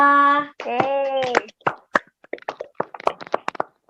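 A primary school class claps for two pupils, with a voice briefly at the start followed by a quick run of separate, rhythmic hand claps, close and fairly loud.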